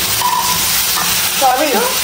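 Soft frying sizzle of tomatoes in a pan with light stirring, a voice briefly murmuring near the end.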